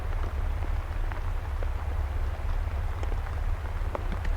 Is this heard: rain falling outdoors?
yes